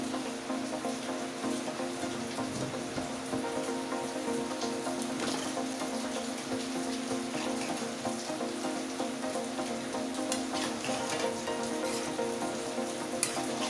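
Periwinkle soup bubbling at a steady boil in a pot, a continuous dense crackle and patter of bubbles that holds evenly throughout with no talking.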